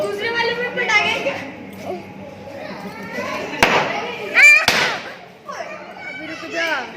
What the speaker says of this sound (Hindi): दूसरे वाले में पटाखे